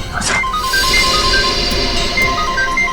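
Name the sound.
phone ringing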